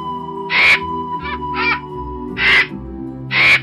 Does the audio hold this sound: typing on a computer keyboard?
no